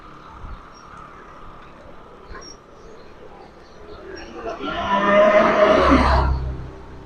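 A cow lows once in a long, loud, drawn-out moo near a village of new houses in Jaffna, rising out of quiet rural background noise.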